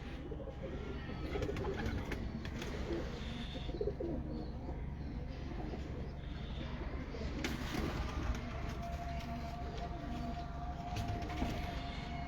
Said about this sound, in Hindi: बड़ा पुराना कबूतर है ये